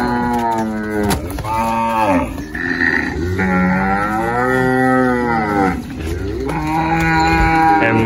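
Girolando cattle leaving a corral on a farm, mooing loudly and repeatedly at close range, long drawn-out calls overlapping one another with no talk.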